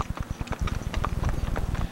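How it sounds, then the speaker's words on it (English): Hooves of the horses pulling a horse-drawn tourist trolley clip-clop on the streets of Roscoe Village, a restored 19th-century canal town in Ohio, in a steady, close, fairly loud rhythm that quickens and thickens as more hoofbeats overlap. "The horse-drawn trolley makes regular tours of the community."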